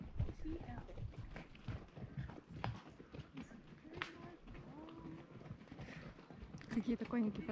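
Hooves of horses clip-clop along a trail at Bryce Canyon, a loose irregular beat of close steps running through the whole stretch while people talk over it.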